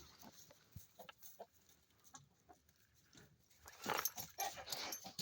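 Soft, intermittent clucking from a rooster close by, with scattered rustling and a burst of louder scratchy noise toward the end.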